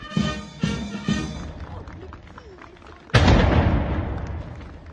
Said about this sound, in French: Impressionnant le gros canon Gribeauval qui tonne en plein Paris et qui peut tirer 2 coups à la minute.